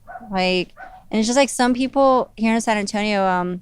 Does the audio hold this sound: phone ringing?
no